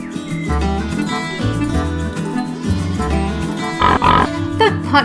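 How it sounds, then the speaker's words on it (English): A pot-bellied pig on a farm grunts in a run of low, rhythmic snorts under background music, with a brief higher squeal near the end. "The pot-bellied pig."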